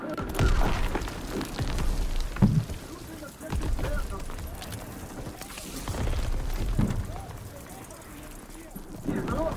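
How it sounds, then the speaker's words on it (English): Grenade blasts in Call of Duty WW2 gameplay, several heavy booms across a busy battlefield mix with rumbling low end, while voices talk over the action. "Grenade!"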